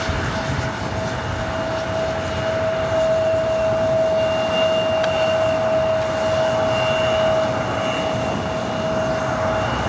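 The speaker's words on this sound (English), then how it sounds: "The Dreamliner next. Heavy arrival." A Boeing 787 Dreamliner heavy on arrival at LAX gives a steady, loud jet roar with a sustained whine, unbroken for the whole stretch and with no voices.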